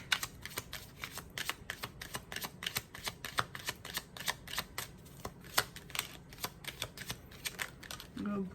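Tarot cards shuffled and riffled by hand, a steady run of quick crisp flicks and soft slaps that keeps going through the whole stretch, close and fairly quiet.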